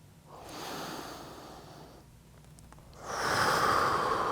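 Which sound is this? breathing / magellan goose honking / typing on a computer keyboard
breathing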